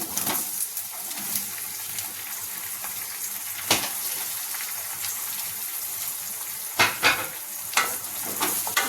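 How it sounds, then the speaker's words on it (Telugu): Onions and bottle gourd pieces with turmeric fry in a pan for a bottle gourd stew. A continuous close sizzle plays under several sharper bursts and scrapes as the mixture is stirred. "ఉల్లిపాయలు ఫ్రై చేసుకుంటున్నాం"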